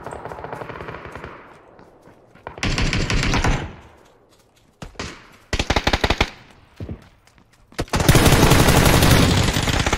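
Gunfire in an online shooting game, with loud rapid machine-gun bursts separated by short quiet gaps, building to a long sustained volley at the end, close and harsh, with no talk in between.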